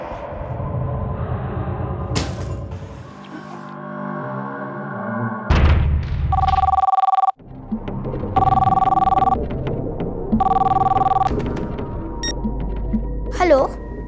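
A telephone rings in three long bursts, loud and close, with gaps between them; voices and other background sounds come before and around the rings.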